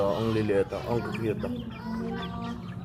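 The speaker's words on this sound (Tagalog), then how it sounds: "tingnan niyo yung mga manok na to" Soft clucking of small nano chickens close by, heard beneath a person talking over them.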